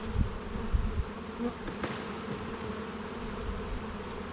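Honey bees hum steadily over a frame of brood lifted from a hive, a soft, close, continuous buzz with a few low handling bumps at the start.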